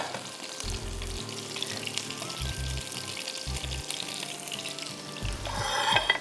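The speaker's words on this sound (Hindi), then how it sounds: "आप एक पैन में थोड़ा सा घी डालिए" Ghee heating in a pan for biryani rice gives a steady frying sizzle with faint crackles, over a low hum with brief rising tones, and no talk.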